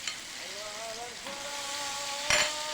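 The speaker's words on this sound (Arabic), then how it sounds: "نزل في الزيت." Spoonfuls of batter fritters frying in hot oil, a steady close sizzle and crackle with a brief louder spatter near the end, and a faint voice underneath.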